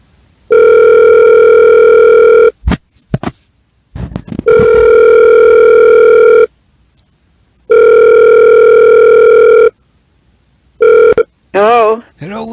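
A loud, steady landline telephone dial tone sounds in long unbroken stretches, interrupted by brief bursts of clicks and dialing noise, with short gaps of silence between segments.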